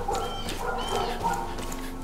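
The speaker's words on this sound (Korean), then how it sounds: "멍멍이 소리" Dog in the video game Far Cry 5 yipping and whimpering in short bursts, moderately faint over game ambience, with no talk.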